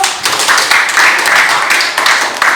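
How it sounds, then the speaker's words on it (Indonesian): A small group in a classroom claps together, quick dense handclaps that rise and continue for a couple of seconds, close and loud, with a little talk mixed in. "Oke, berikan aplaus dulu."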